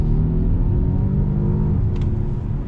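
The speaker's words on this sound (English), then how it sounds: "let's do another on throttle acceleration here" Volvo S90 engine pulling under on-throttle acceleration from inside the cabin, a steady droning hum with rising tonal harmonics, smooth and continuous, no speech.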